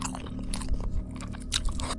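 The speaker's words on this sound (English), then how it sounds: "as I listen to the soft, rhythmic sounds of chewing echoing through the plaster and drywall" Soft, rhythmic chewing and crunching repeats in quick bites, slightly muffled and resonant as if heard through plaster and drywall, alone without speech.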